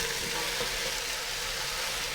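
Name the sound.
beef sizzling as it is added to a hot pot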